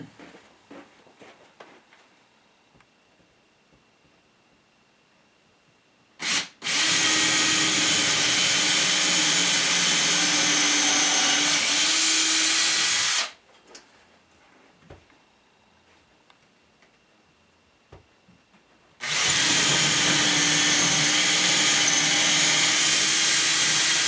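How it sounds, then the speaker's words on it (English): Power drill boring into a wall stud to hang acoustic panels, two long loud steady whirring bursts separated by a quiet pause with faint handling clicks before and between them. "that's how far I'm going to drill into the wall into my stud"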